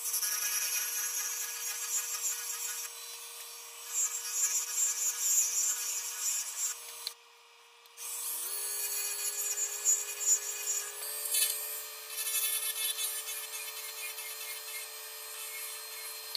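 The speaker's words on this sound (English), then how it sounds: "I'm just going to use my Easy Wood Tools round over negative rake scraper on this." An Easy Wood Tools R2 round-over negative rake scraper works a purpleheart slimline pen blank with turquoise stone inlay on a lathe, giving a steady close whir with a light scraping texture that drops out briefly partway through.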